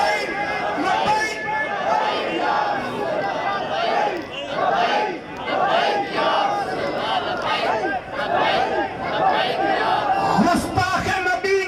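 A crowd at a protest rally for the honour of the Prophet in Ladhewala, Pakistan, chants religious slogans in loud, rhythmic massed voices that rise and fall continuously throughout.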